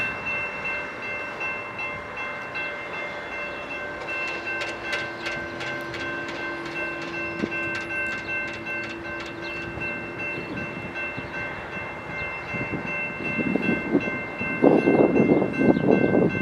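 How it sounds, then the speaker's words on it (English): A BNSF intermodal Z train rolls through Tehachapi, its horn sounding steady sustained chords over a low rumble, while rail clatter and wheel noise build louder toward the end. "Here comes a BNSF intermodal train."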